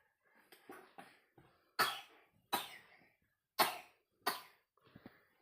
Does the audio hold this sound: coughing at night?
yes